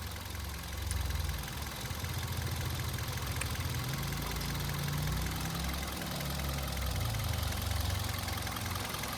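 A Hyundai Verna SX with a 1.6 petrol engine idles steadily, a smooth low even hum with a faint tick, heard alone and close for several seconds.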